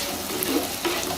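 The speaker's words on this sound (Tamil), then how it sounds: "நல்லா அந்த மசாலா வந்து கருவாடுக்குள்ளே இறங்குற அளவுக்கு நல்லா வதக்கிக்கோங்க" Masala and dried anchovy fish being sautéed in a pan over low flame, giving a steady close sizzle with soft stirring scrapes, no talking.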